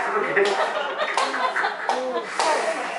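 Older adults in a clock clapping recreation game clap a few scattered claps while talk and light laughter run over them, the claps close and irregular.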